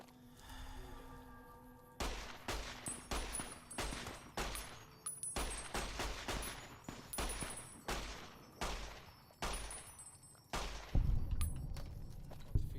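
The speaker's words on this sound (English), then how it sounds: "Shooting." Shots from a K9000 gun in a Mojave video game ring out as a rapid, regular series of loud, close cracks about every half second, ending in a heavier thudding burst.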